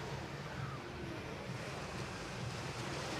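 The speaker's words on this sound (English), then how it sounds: "The engines you're listening to there are 2 Garrett T76s, producing just over 700 horsepower" An aircraft powered by two Garrett T76 turboprop engines flies at the English Riviera Airshow, a steady, loud broadband roar heavily buffeted by wind noise, with no voices.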